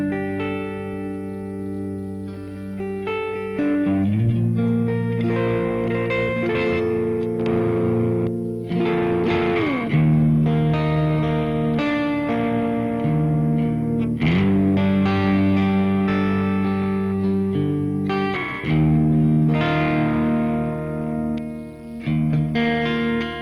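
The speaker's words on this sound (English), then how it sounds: "And then reverb from the amp." Heavily saturated 2016 Ibanez Jem Jr electric guitar through a BlackStar HT-1R head playing sustained chords and riffs, drenched in Flashback echo and amp reverb, loud and continuous with no voices.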